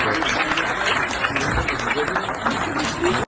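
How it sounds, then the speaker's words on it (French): Patrons applaud as Nicolas Sarkozy walks into a restaurant in Paris's 16th arrondissement, a busy, crackling patter of clapping mixed with crowd murmur and voices, ending abruptly. "Applaudissements, quoi."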